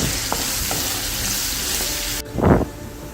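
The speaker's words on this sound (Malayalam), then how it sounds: "കുറച്ച് പച്ചമുളക് അത് വഴറ്റി അതിൻ്റെ പച്ച മണം മാറുന്നവരെ വഴറ്റിയെടുക്കണം." Crushed garlic and green chillies being sautéed in hot oil for a Kerala prawn roast, with a steady close sizzle and frying hiss throughout, broken near the end by a short louder stirring scrape.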